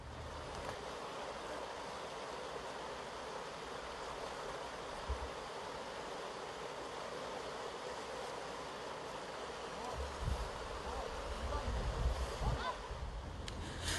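River water near the Lofoi waterfall flows in a steady, broad rush with no breaks, heard from a moderate distance, with a few low thumps and louder swells toward the end.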